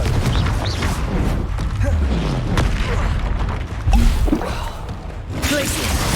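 A Confringo fire spell blasts in Hogwarts Legacy on Xbox Series X amid dense, loud combat noise, with heavy booms and thuds layered over continuous battle clatter.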